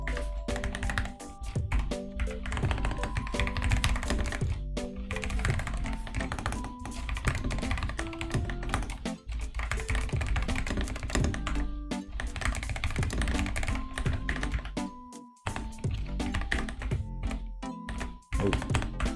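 Steady typing on a new computer keyboard, dense clacking keystrokes running nearly continuously for about twenty seconds at close range, with a brief pause near the end and no talk.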